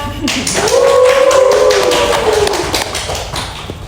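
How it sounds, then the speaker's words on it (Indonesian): An audience gives a short burst of applause, dense clapping that swells and fades over a few seconds, while a voice speaks briefly over it. "Langsung aja kita beri tepuk tangan untuk Kak Rido Syaputra."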